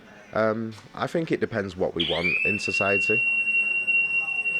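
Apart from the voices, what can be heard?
fire alarm ringing in a public space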